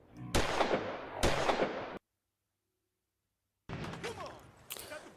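Pistol gunshots in Fallout 4 ring out as two sharp, loud cracks close together, then a gap of silence before more shots and game noise resume.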